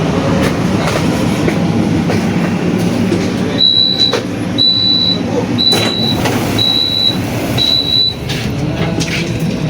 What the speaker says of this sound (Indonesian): Argo Wilis KA10 tiba di stasiun Banjar.